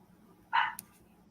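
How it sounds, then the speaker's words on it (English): Small office dogs give one sharp bark with a short yip after it, reacting to a package delivery, set against a low background hum. "we were getting a package over here and the office dogs were trying to protect me"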